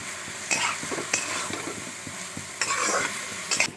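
Poppy seed and cashew paste fries in a pan under a steady sizzle while a spoon scrapes and stirs it in repeated strokes, close and clear, with no talking.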